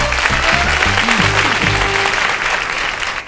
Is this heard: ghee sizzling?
no